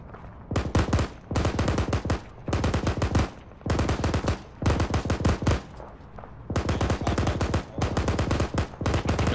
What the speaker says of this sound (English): They're just shooting at us from inside.